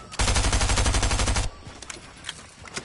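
A submachine gun fires in Fortnite, a loud rapid burst of about a second and a half, followed by scattered fainter shots and game noise.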